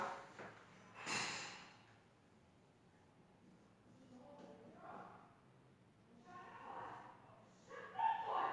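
A dog barks and yips nearby while people scold it, a few muffled bursts heard faintly in the background of an otherwise quiet room.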